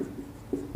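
Short scratchy strokes of writing on a classroom board, faint and close, with a couple of quick marks in under a second.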